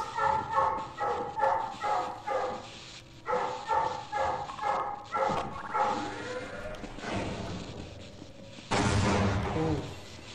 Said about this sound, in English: Apologies for the dog sounds.